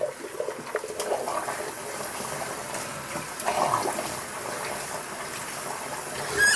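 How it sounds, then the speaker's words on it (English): Running tap water wetting hair before a shave, a steady close splashing and rushing stream with small surges, continuous and with no talk. "Get some water on this hair."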